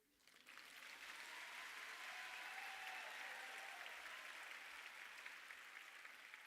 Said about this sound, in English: give them a round of applause for being here to support you